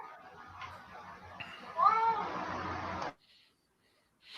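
A cat meows loudly and insistently several times indoors, with a drawn-out caterwauling call at its peak, then falls quiet before a faint sound returns at the end.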